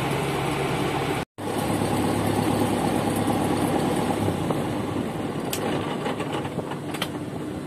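A farm tractor engine runs loud and close with a steady low rumble and broad mechanical roar, briefly cutting out near the start, then continuing as it moves off, with light clicks and rattles over it and no talking.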